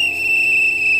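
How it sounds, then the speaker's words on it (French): A single shrill whistle blast sounds loud and close, held steadily for about a second. "il faut donner un coup de sifflet"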